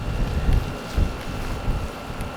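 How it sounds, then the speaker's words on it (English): Gusty wind buffets the microphone outdoors in low, uneven rumbling bursts, steady and fairly loud throughout with no voices. "Pretty windy today."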